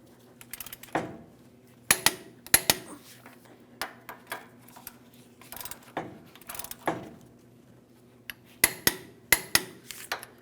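Wheel bearing hub bolts on a 2007-2014 GMC Sierra 2500 HD are torqued in a series of sharp metallic clicks and ratchet bursts, coming in separated clusters with quiet gaps between them.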